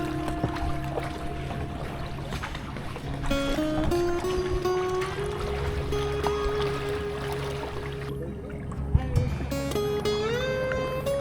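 A rowboat moves steadily through floodwater in Barangay Frances with continuous sloshing and trickling, under a layer of tonal hum and background noise.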